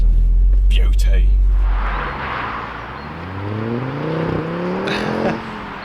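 A modded Ford Focus ST pulls away, its engine note rising and whirring as it accelerates off into the distance, with a low rumble underneath.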